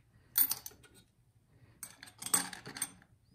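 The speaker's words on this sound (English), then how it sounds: "This rocker arm comes off." Small metal parts clink and rattle as rocker arms and a pin come off a Honda EU2000i generator engine during teardown, two brief bursts of close, light metallic clicking separated by a quiet pause.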